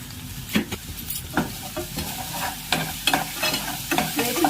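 Mutton liver fries in a pan with turmeric, chilli and spices, a continuous close sizzle broken by repeated scraping clicks of a spoon stirring.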